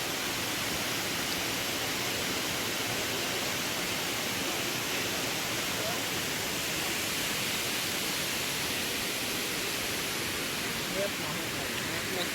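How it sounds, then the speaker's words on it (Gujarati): Steady, dense rush of water pouring over Willingdon Dam near Junagadh's Girnar hills in the monsoon, a loud close-up roar that holds unbroken with no talk over it. "ફરીથી પાણી પડે છે."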